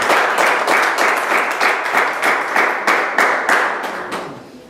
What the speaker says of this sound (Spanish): Dale un aplauso al Cristo de la gloria.